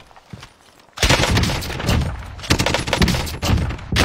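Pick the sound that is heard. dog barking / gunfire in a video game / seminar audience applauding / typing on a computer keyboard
gunfire in a video game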